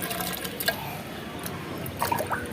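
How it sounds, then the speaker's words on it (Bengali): Water poured onto the soil around a newly planted tree, a soft liquid trickle and splash with a few brief bright drips and gurgles, fairly quiet and with no talk. "এবার আমি জল দিচ্ছি।"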